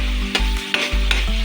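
Garlic and onion sauté in oil in a kawali, a loud close sizzle with quick stirring scrapes and clicks over a steady low hum, no one speaking.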